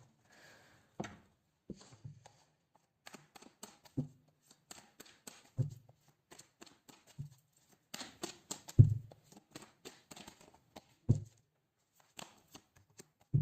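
Tarot cards being shuffled at close range, with irregular bursts of crisp riffling and soft taps spread across the span, the loudest flurries toward the middle, and no talking.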